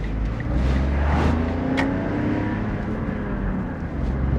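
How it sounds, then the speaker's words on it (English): Smart car driving along a narrow country lane in Worcestershire, a steady close engine drone and road rumble inside the cabin, swelling slightly early on before settling into an even hum. "We're in the smart car,"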